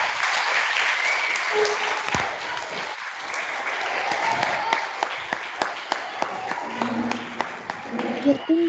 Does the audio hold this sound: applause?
yes